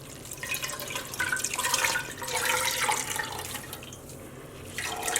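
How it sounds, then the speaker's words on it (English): Water from tea-dyed sock yarn being squeezed out by hand drips and splashes into a container, steady and close, with no talking. "Just trying to squeeze out the water so I don't make a huge mess."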